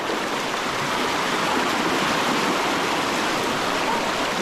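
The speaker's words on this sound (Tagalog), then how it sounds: "Masyadong mabato dito mga kaibigan, oh. Uy, malakas ang agos." A strong river current rushing over a rocky bed, a steady full roar of churning water close by and without pause, with no voices.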